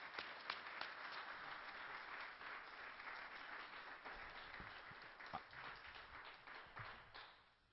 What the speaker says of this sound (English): let's give Dr. William Deagle a warm round of applause at the Granada Forum.